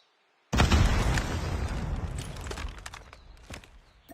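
Grenade blast in Call of Duty Mobile, a sudden loud explosion after brief silence, decaying into rumble with scattered clicks and footsteps.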